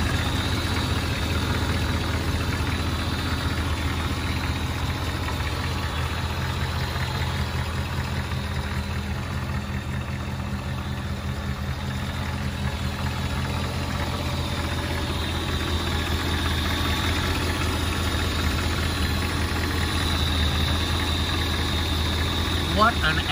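A 1957 Chevrolet Bel Air convertible engine idles smoothly and steadily, recorded close to the fan blade under the open hood, with a steady low rumble and faint mechanical ticking.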